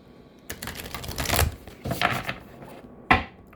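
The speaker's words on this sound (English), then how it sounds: "One more shuffle." A deck of tarot cards is shuffled in several quick riffling bursts, close up, with short pauses between and a final sharp snap.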